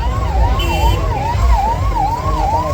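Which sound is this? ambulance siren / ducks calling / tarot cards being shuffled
ambulance siren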